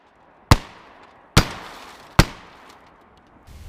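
Three sharp shotgun blasts of 12-gauge double-aught buckshot fired into a car's quarter panel, each loud crack evenly spaced under a second apart with a ringing metallic decay, no voices.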